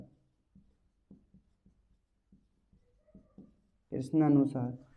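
A pen or chalk writes out a maths equation in short, faint scratchy strokes spread across a quiet stretch, followed by someone talking at the end.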